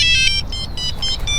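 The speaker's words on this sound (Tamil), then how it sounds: "திடீர்னு ஒரு ஃபோன் கால்" A phone ringtone from a short film rings out loud and steady, a bright repeating electronic melody over a low background hum that stops abruptly near the end.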